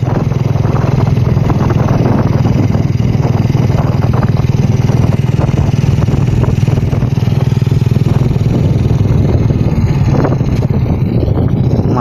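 A Honda Revo motorcycle engine runs steadily throughout a power test after valve work, a dense, close and loud rumble with some wind buffeting, no clear revving peaks and no voices.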